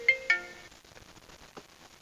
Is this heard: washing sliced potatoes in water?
no